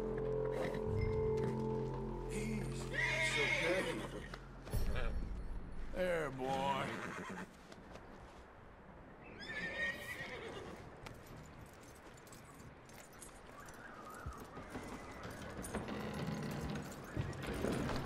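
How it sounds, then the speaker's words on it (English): In Red Dead Redemption 2, a horse whinnies and snorts amid clopping hooves and jingling tack, with someone talking over parts of it at moderate distance. "That looks like a decent horse."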